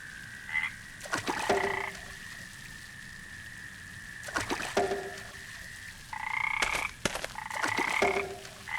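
Frogs croaking at a lake in the video game Memoranda: repeated bursts of clicking croaks at irregular intervals, fairly close and clear, over a soft steady water ambience with a continuous tone.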